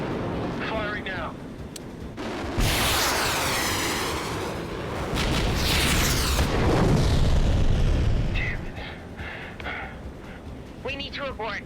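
Weapons fire and explosions from a movie battle scene, with heavy booms and roaring blasts swelling and fading over several seconds, a jet-like whoosh sweeping through, and voices talking over radio before and after.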